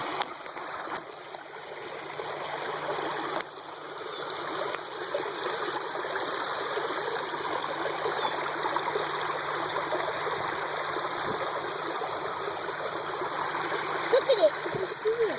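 Water flows steadily into a pond, a continuous close rushing and trickling with a slight gurgle, holding an even level throughout and swelling faintly toward the end.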